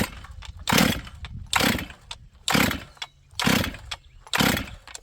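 A used auction chainsaw on full choke is pulled over repeatedly: five loud, evenly spaced rasping pull-cord bursts with quiet gaps between them and no sustained running.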